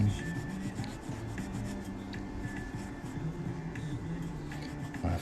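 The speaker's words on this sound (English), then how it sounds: "So we're just brushing off this outside layer of oxidized copper off of here." A coin being brushed to scrub off a layer of oxidized copper, a steady close scratchy rubbing with faint rhythmic strokes, no talking.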